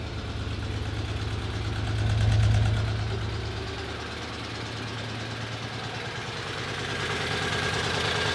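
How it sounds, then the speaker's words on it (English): Old project car engine idling in a garage, a steady low rumble with a brief swell in revs early on, then settling into an even idle. "Now it starts idling good. Let you guys hear it a little bit."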